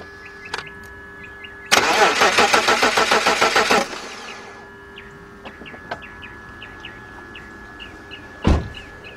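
A BMW 5 Series engine with a cranks-but-won't-start fault cranks over for about two seconds with a rapid rhythmic churning, then stops without catching; a short thump follows in a quiet background.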